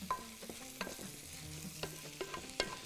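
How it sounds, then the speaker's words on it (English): Onions and ground meat fry and sizzle in a pan as a utensil stirs them, with soft scraping strokes and a few sharp clinks against the pan over a steady low crackle. "Make sure all the onions get surrounded by the meat."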